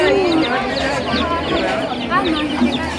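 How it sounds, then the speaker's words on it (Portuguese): Baby chicks for sale at a cattle fair peep in a dense, continuous chorus of high chirps amid clucking fowl and crowd noise, with people talking nearby. "uns pintinhos"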